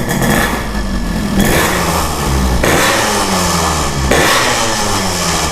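A Yamaha RX-King motorcycle built in Biang Kerok custom style runs close by, its engine idling and swelling into several repeated rev bursts, loud throughout with no talk.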